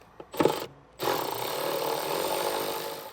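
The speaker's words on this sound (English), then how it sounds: "to remove our rear threshold, we're going to have a T30 Torx bit" Power driver with a T30 Torx bit backing out rear threshold screws in a 2024 Mercedes-Benz G-Class, two short bursts followed by a sustained close whirring drive that runs steadily to the end.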